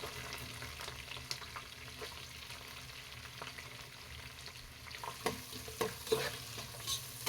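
Three onions, sliced lengthwise, fry in a pan for a Dindigul-style seeraga samba biryani. A soft, steady sizzle runs throughout, broken by scraping stirs that grow more frequent near the end, with no voices.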